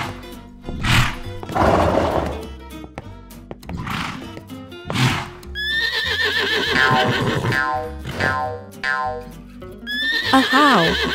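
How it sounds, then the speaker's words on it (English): Several horses in a farm diorama scene neigh and whinny loudly, with long, drawn-out calls overlapping in sequence across the stretch, close and prominent with no talking. "The horses are galloping towards the farm."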